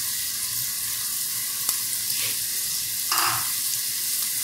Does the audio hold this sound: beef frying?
yes